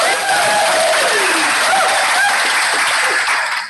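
An audience applauds, with dense, steady clapping held at full loudness for several seconds, then tapering off at the very end; no clear talk over it.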